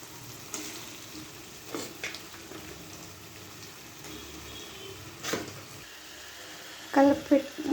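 Marinated chicken with ginger, chilli and turmeric sizzles and fries in an oiled pan, a soft steady hiss broken by stirring scrapes and a few louder clatters near the end.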